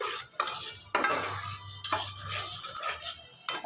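A spoon scrapes and stirs bhuna khichuri with salt in a pot, making several close, uneven strokes with metallic clinks over a faint sizzle. No voices.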